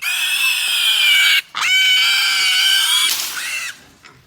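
Piglets on a pig farm let out loud, close, high-pitched squeals in long bursts, broken by a brief gap, with no voices over them.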